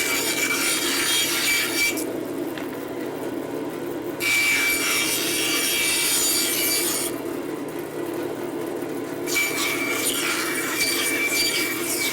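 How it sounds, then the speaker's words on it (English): A bandsaw cuts apart homemade fire starter cells with two loud, steady rasping passes, each broken by a short drop to the motor's quieter hum before the blade bites again. "So I'm going to come here to the bandsaw in order to cut these apart."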